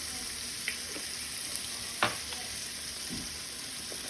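Onions frying in a pot with cumin and chili powder for tortilla soup, a faint steady sizzle with a few soft stirring taps and scrapes, quiet and close with no talking.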